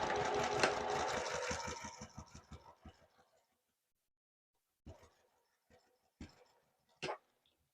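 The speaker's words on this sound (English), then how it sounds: "I'm going to stitch from the seam to the top." A sewing machine stitches a seam on a small fabric desktop caddy, a fast, close mechanical whir that slows into separate ticking stitches and stops, followed by a few scattered clicks and handling sounds.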